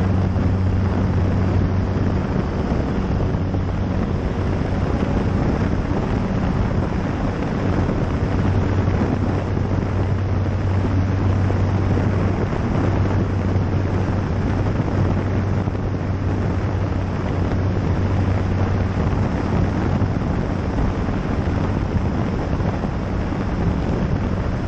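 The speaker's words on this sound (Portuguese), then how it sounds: "foi necessário utilizar muita pista para decolar" Small airplane taking off on a hot day with two people aboard, using a long run of runway before climbing, heard from the cockpit as a loud, steady engine drone with wind rush throughout.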